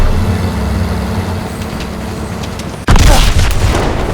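A grenade explosion in Call of Duty WWII, a sudden loud boom cutting in after a stretch of rumbling vehicle-like background noise, with the blast's roar lingering and slowly fading.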